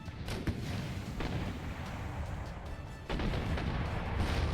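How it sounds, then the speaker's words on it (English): Cannon fire from a city wall in Empire: Total War during a siege battle, a continuous rumbling barrage of booms with a stronger blast near the end, loud and dense with no talk. "this is the main wall cannon that they're shooting right now"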